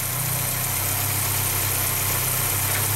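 Volkswagen Rabbit with CIS fuel injection idling while it warms up, a steady low engine hum and vibration, close and constant with no speech.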